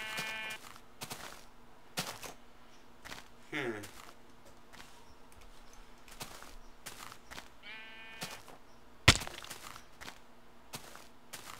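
Sheep in Minecraft bleat several times, short wavering calls scattered among game footsteps and clicks, with a sharp thump near the end.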